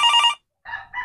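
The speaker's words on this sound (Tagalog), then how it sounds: "Tess, nasaan baga ang cellphone ko? Natunog" A mobile phone rings loudly and close by, two bursts of a bright electronic ringtone separated by a short silent gap, with no talking.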